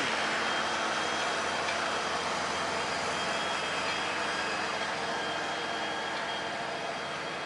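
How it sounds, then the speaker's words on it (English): Steady loud engine drone of a nearby tractor outdoors, a continuous broadband rumble that holds constant throughout with no pauses. "Sorry about the tractor, look, can you see him? It's very noisy."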